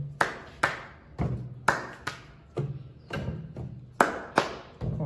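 Hand claps during a physical education attention exercise, sharp close single and double claps at an irregular pace, about a dozen strikes with short pauses between them and no talking.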